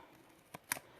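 Small scissors snip through a butterfly's paper antennae, two quick faint cuts close by, the second crisper and louder, in an otherwise quiet room.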